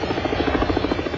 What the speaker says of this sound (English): decide to dispatch a helicopter to assess the area